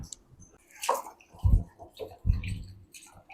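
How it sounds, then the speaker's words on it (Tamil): Soaked tamarind being squeezed and dissolved by hand in water for a fish curry, with wet squishing, squelching and splashing in irregular bursts, close up with no talk. "பாருங்க டக்குன்னு கரையுது பாருங்க புளி"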